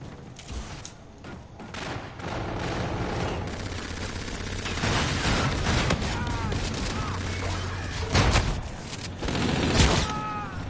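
Launcher weapon fire and other gunfire in a multiplayer shooter game, with bursts, thumps and rattling shots coming unevenly over about ten seconds, loud and busy, under occasional voice chatter.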